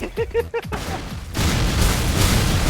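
Cannon fire in a video game: a quick cluster of sharp booming shots, then a sustained noisy rumble of explosions and action, loud and close.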